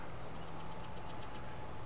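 A John Deere 8RX tractor strains under load in the Farming Simulator 22 game, giving a continuous, even engine drone with a low hum and no talking.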